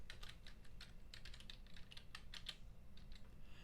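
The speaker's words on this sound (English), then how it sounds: "and we're typing Christmas." Quick fingers tap on a computer keyboard, a close, rapid run of light plastic key clicks in uneven bursts over a quiet room hum.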